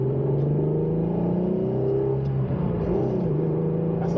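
An Alfa Romeo GTV with an upgraded 3.0 V6 drones steadily as it drives down the road, recorded from inside the car as a loud, continuous engine hum with slight shifts in pitch.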